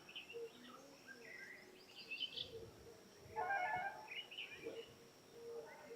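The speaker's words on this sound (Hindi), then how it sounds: "अगर हम थोड़ी देर चुप होगी तो चिड़िया की आवाज़ सुनाई दी" Scattered birds chirp and twitter softly at a distance in a quiet countryside setting, calls coming intermittently over a faint background hush.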